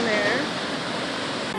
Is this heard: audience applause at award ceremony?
no